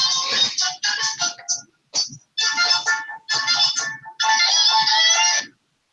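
Phone ringtone for an incoming call plays loud and alone in several bright, tonal bursts with short gaps, then stops abruptly.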